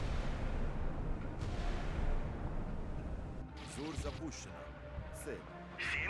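Rumbling launch roar of a missile in the naval combat game Sea Power, a steady broad whoosh filling the first half, with someone talking over the later part.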